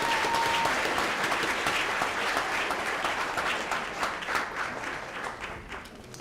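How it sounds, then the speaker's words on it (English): Dense, sustained applause from a dinner audience at a retirement and 50th-anniversary celebration, loud and close, with many hands clapping steadily throughout and slowly thinning toward the end. "let's give these guys from the board a round of applause"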